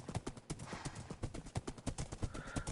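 Silver, a horse in a video game, clip-clops along in a quick regular rhythm of hoof beats, faint and fairly close, with a brief neigh mixed in.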